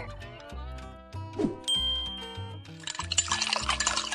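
Warm water is poured into a blender in a paper stop-motion scene, a splashy rush of liquid arriving near the end after a stretch of chiming, tinkling music.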